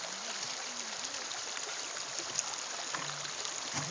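Creek water flows steadily at a mountain bike crossing, a broad even rush of trickling water that holds close and constant throughout, with faint low murmurs beneath.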